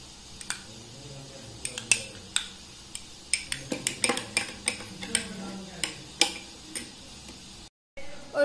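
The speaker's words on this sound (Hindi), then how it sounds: "और अब हमें इसे अच्छे से मिक्स कर लेना है।" An aloe vera hair mixture is stirred in a bowl, giving sharp, irregular clinks and taps of a utensil against the bowl, fairly close and moderately loud, with a faint voice in the background.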